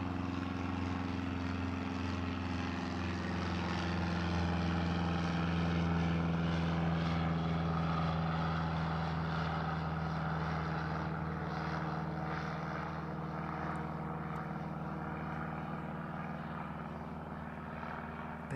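A Cessna 152 propeller plane taxis out on the runway at East Midlands Airport on an evening, its engine drone steady and moderately loud for the whole stretch, with a low hum and gentle breeze behind it.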